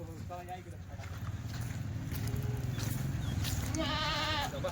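Kathiawadi goats at a farm, a pregnant and dairy herd, bleating in short wavering calls early and a louder run of bleats near the end over steady background noise and speech.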